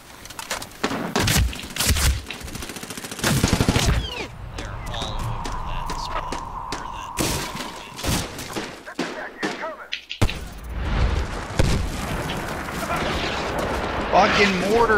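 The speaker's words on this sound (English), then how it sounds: "Fucking mortars!" Mortar explosions and gunfire in the shooter game Medal of Honor: repeated heavy booms and thuds with bursts of shots, loud and chaotic across the whole stretch, with players talking over the battle.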